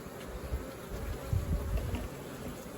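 Honeybees buzz steadily and close by while a beekeeper handles and marks the queen, a continuous low drone with slight swells and no talk.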